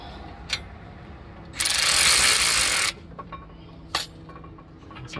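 On the brakes of a 2004 Ford F250 Powerstroke 6.0 4x4, a ratchet tightens bolts in one loud, sustained buzzing whir of rapid clicks lasting over a second, framed by a few isolated close metallic taps.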